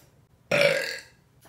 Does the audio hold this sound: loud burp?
yes